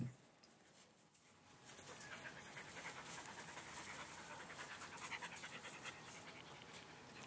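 A dog pants steadily close by, quick rhythmic breaths continuing throughout with a faint hiss in the background.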